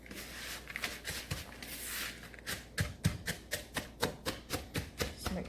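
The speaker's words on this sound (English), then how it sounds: "So I'm just gonna mix all of this up." Graham crackers, brown sugar and melted butter are mixed in a bowl, starting as a crumbly rustling scrape and settling into a steady, rhythmic tapping of a utensil against the bowl. The sound is close and fairly quiet, with no speech.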